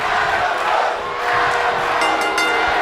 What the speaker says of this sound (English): some fans in the crowd chanting for Adam Cole here in Baltimore, Maryland